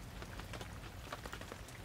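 Rain falls steadily in a faint, even patter with soft scattered drops hitting a surface and no voices over it.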